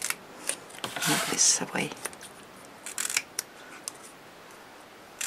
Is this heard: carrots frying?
no